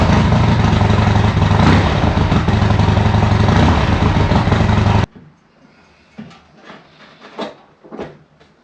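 A Harley-Davidson motorcycle engine running loudly up close for about five seconds with a steady low throbbing roar, then cutting off, leaving faint clicks and light handling sounds.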